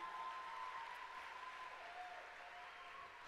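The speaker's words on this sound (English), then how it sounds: "Your cheering is cutting into my talk time." An audience at a 2015 Steubenville Florida Sunday keynote talk cheers and applauds, a faint, distant, steady wash of crowd noise with a thin whistle-like tone running through it.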